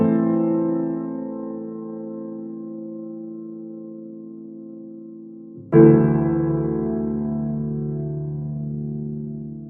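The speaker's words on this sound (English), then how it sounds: "So the piano chords sound like this." Vintage-style sampled piano chords with low bass notes struck all at once, two sustained chords, the first decaying slowly before a second loud chord hits and rings out, with no talking.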